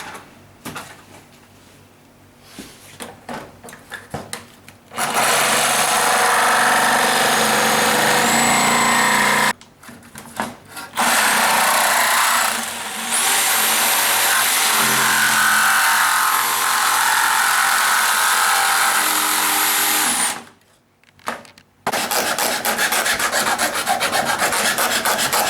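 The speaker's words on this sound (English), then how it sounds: "now I'm ready to cut with the jigsaw" A jigsaw cuts a hole through the panel of a fridge freezer, a loud sustained rasping buzz in long bursts broken by brief pauses, with no talking.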